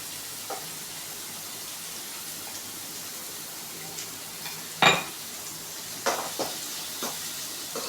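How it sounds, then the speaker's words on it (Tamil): Ingredients for Maggi noodles, salted, are sautéed in a pan: a soft, steady sizzle with a few sharp spatula clicks and scrapes against the pan. "இப்போ நம்ம நல்லா வதக்கிக்கலாம்"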